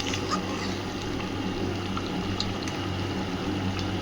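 Water boiling in a pot of potatoes during mushroom cooking, a steady close bubbling and hissing wash that holds at an even level throughout without pause.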